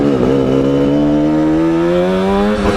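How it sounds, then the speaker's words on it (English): A 1978 Suzuki GT185 motorcycle with very loud exhausts revs up close, its engine tone climbing steadily as the throttle opens, loud and continuous with no talk over it. "just because the exhausts are very, very loud"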